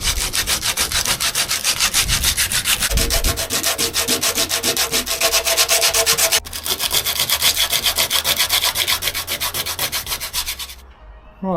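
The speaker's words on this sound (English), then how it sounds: "I've managed to give it a good rub down and get all the surface rust off" Rapid back-and-forth hand rubbing of abrasive over a rusty VW Caddy van panel, a loud, close, continuous scratchy rasp in steady rhythmic strokes that stops abruptly near the end.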